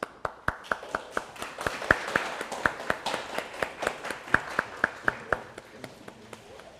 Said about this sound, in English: That was our best golf clap.